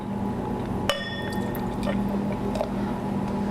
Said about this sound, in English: So let's start pouring it.